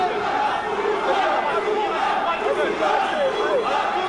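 A dense, steady crowd roar fills a 1997 Muay Thai bout between Mourad Sari and Samai Chor. Suananant, with mingled shouts and chatter holding at an even level throughout.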